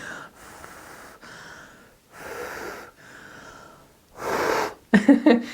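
Close breathing and blowing on wet paint during an art session, several soft airy puffs in a row, ending with a louder, longer blow and a few sharp bursts.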